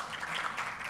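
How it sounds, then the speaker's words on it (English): A brief burst of audience applause at an in-person youth consultation in Barbados, a diffuse, even patter of many hands filling the moment without a break. "Another round of applause for everybody who came out."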